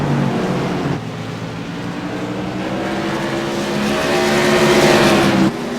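Modified race cars on track at New Smyrna Speedway in a CRA Modified tour race, engines roaring loud and steady with rising pitch as the field runs under green, a sharp drop near the end as cars pass.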